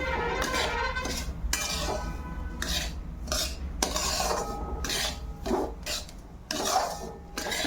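Semolina roasting in ghee for sweet halwa is stirred steadily in a pan, a spoon scraping and rubbing against the metal in repeated strokes with occasional light clinks, close and continuous with no talking.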